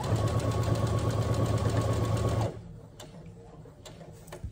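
Close by, a sewing machine hums along a seam on a drawstring backpack for about two and a half seconds before cutting off into quiet with faint handling taps.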